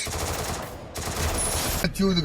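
Rapid automatic gunfire in the Free Fire battle game, bursts of shots continuing through most of the moment, loud and close, with brief breaks.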